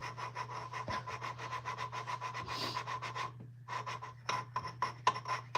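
Rapid rhythmic scraping and grinding as engine valves on a Plymouth are lapped, back-and-forth strokes repeating steadily, close up, with a brief pause before the strokes resume.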